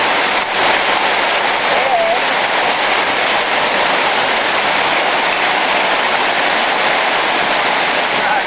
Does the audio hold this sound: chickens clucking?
no